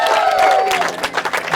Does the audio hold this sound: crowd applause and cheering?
yes